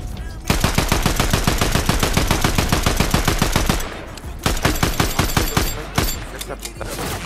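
Rapid automatic gunfire in the video game Fortnite, long sustained bursts of closely spaced loud shots, a brief pause, then more bursts and single cracks.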